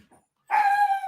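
A single dog lets out one drawn-out, whining bark-like yelp, close and fairly loud, after a brief silence.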